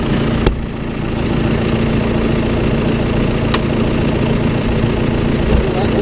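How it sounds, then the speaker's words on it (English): A tractor engine idles with a steady low rumble and vibration, with a couple of sharp clicks standing out over the constant drone. "crank the tractor back"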